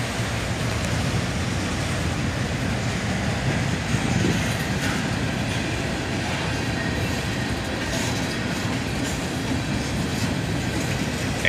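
A freight train made up of auto racks and boxcars rolls past steadily and fairly close, a continuous rumble of wheels on rail with faint clickety-clack and occasional squeal, no voices.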